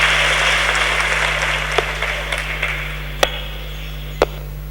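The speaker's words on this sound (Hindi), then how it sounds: "ताली बजाओ जोर से" An audience at a spiritual gathering claps steadily and fairly loudly for several seconds, a broad wash of hand clapping with a few sharper pops, over a constant low electrical hum and no speech.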